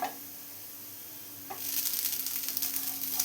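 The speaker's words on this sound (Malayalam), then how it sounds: "ഗീയിൽ കിടന്നിട്ട് ഈ നേന്ത്രപ്പഴം എല്ലാം ഒന്ന് ചെറുതായി ഫ്രൈ ആയി വരണം" Ripe plantain (nendran banana) fries in ghee in a pan, a soft steady sizzle that swells louder about halfway through and keeps crackling gently to the end.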